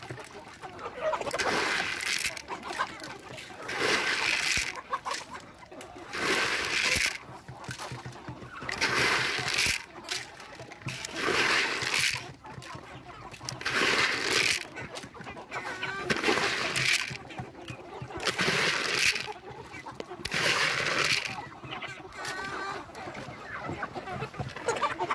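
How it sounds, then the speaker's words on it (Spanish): Free-range criollo hens and roosters cluck and call near the microphone in a home poultry yard, with repeated bursts of clucking separated by brief quieter stretches. "en realidad hay gallinas y gallos"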